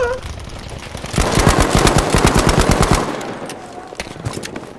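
Rapid machine-gun fire in Battlefield V, a dense burst of evenly spaced shots lasting about two seconds, loud and close, with earlier and later softer game noise around it.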